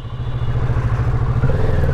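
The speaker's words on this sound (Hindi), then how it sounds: "ये तो ऐसे क्लच छोड़ने पे ही उड़ रही है यार" Motorcycle engine revving steadily at close range as the clutch is let out, a continuous loud mid-pitched drone with slight rise in pitch toward the end, no talking.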